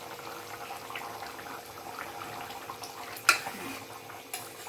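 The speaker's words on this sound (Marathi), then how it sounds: "मस्त उकळी आली आहे भाजीला, बघू शकता." A peanut and potato curry bubbles at a boil in a pan with a quiet, steady simmer. A single sharp clink is heard near the end.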